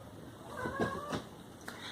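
A cat lets out a couple of drawn-out meows close by, a short whiny cry followed by a briefer second call over a quiet room.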